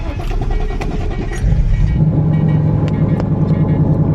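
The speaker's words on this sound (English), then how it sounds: "Let's get a little cold start." A Terminator Cobra's 5.0 engine cold starts with a brief cranking burst, then settles into a loud, lumpy, rumbling idle close by.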